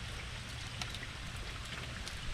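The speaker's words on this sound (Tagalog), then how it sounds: "Ang lakas kasi ng ulan." Heavy rain pours down on a farm in a dense, unbroken hiss, with scattered drops tapping nearby on a surface.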